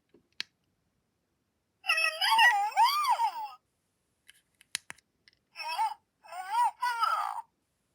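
A Hasbro Nano-Mals Mootilda interactive toy plays two bursts of warbling, electronic cartoon-like vocal sounds, separated by a few clicks and taps, close and clear with no talk.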